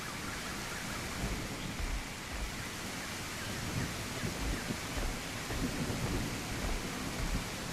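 Rain in the video game Echoes of Extinction, a dense, steady wash of rainfall with low rumbles that stays constant throughout, with no talk.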